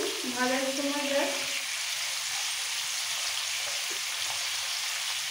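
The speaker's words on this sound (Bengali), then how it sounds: "তেলের মধ্যে ফুলকপি আলুটাকে একটু মিক্স করে দিয়ে দেবো।" Cauliflower florets and potato pieces with a little salt fry in hot oil, a dense continuous sizzle heard close up throughout, with a faint voice-like tone early on.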